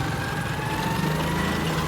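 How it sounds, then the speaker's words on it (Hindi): A tractor's engine drones steadily while driving just ahead, a constant low mechanical hum with a faint tonal whine, even and unbroken throughout with no talking. "अभी हमारे आगे जो है वो ट्रैक्टर जा रहा है"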